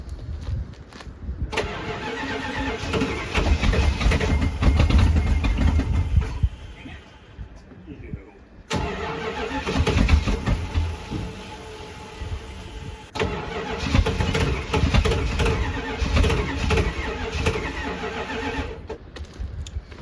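Engine of a 1979 Chrysler 300 junkyard project car needing carburetor work cranks and catches twice, each start settling into a rough, uneven idle; loud and close, with a brief quieter gap between attempts.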